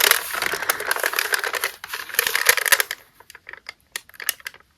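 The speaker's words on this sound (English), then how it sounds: "I love these tiny scissors." Tiny scissors snip through the paper of an envelope in a quick run of crisp clicks and rustles, close up and fairly loud, then a few separate sharp snips follow after a short pause.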